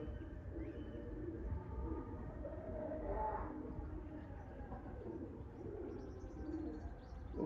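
Low, murmuring coos of Mirab pigeons at a pigeon sale blend with a steady background hum, faint chirps rising near the end.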